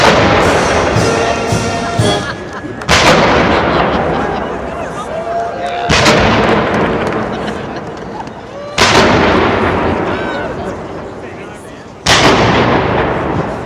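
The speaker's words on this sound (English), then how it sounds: "That's a 21 gun salute." Cannon blasts of a 21-gun salute at a Michigan governor's inauguration boom out one at a time, about every three seconds, each loud report followed by a long echoing decay rolling across the outdoor ceremony.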